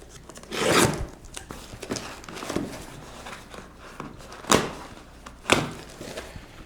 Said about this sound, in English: Cut along the edges. Slice down the middle here.